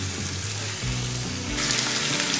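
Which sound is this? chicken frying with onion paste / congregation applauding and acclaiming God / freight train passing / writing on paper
chicken frying with onion paste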